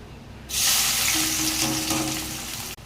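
Sliced onions hit hot oil in a kadai with a sudden loud sizzle that stays strong and steady for about two seconds before cutting off abruptly.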